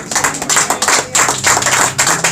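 A church congregation applauds together in a dense, rhythmic round of clapping, loud and close, with many hands keeping a roughly even beat and no speech over it.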